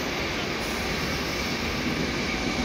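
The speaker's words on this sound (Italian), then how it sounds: "poi c'è dietro un treno notte che so, con una 402 o 403, quello che è in coda, avete visto? Ecco. E Intercity." An Intercity train passes through Milano Lambrate station, giving a loud, continuous rumble and roar that holds steady throughout.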